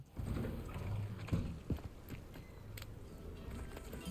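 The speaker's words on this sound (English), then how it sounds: "Accidentally let a goat in here." A goat's hooves clop in a quiet run of steps across a hard floor in the video game Hogwarts Legacy, faint and close, over a low background hum.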